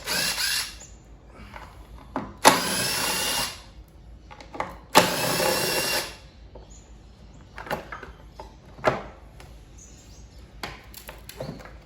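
Power tool bursts undoing 8mm bolts on the fuel tank of a Victa two-stroke lawnmower, two long loud whirring runs followed by shorter spurts and clinks, close up with no talking.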